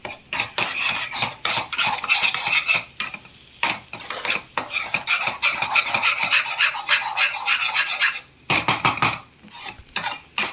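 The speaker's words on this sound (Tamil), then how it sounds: "நல்லா முட்டை பொடி மாஸ் மாதிரி நல்லா தூளாக கிண்டிக்கிட்டிங்கன்னா இன்னும் சூப்பராக இருக்கும்" Egg podi mas, crumbled scrambled egg, is stirred in a pan with repeated close, loud, rhythmic scraping strokes of a spatula against the metal, continuing with only short pauses.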